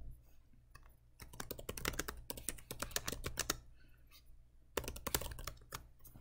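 Typing on a computer keyboard comes in bursts of rapid, crisp key clicks, close and fairly quiet, with a short pause in the middle before another flurry; no voices.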